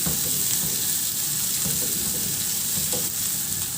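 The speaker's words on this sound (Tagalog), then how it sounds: "Nagpainit muna ako ulit ng mantika sa kawali at igisa ko na yung bawang." Garlic sautés in hot oil in a pan, a steady loud sizzle with crackling that fills the whole stretch, plus a few stirring scrapes, and no one speaks.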